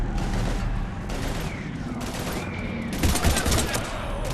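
Gunfire at husks in the sci-fi shooter Mass Effect 3: sustained rapid bursts of shots over rumbling battle noise, getting louder and denser toward the end.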